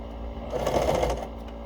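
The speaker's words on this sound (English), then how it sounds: "I will run a straight seam on the edge" A sewing machine stitches a short straight seam along the edge of a fabric mask, a brief burst of rapid needle whirring that swells and fades against a steady background hum.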